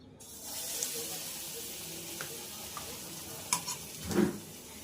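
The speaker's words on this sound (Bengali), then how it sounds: "আমি এটা কর্নফ্লাওয়ার বেসনে চুবিয়ে এটাকে ভালো করে ভেজে নেব।" Stuffed pointed gourd coated in cornflour and gram flour batter frying in hot oil, a steady soft sizzle throughout with a few sharper crackles and a louder bubbling burst near the end, no voices.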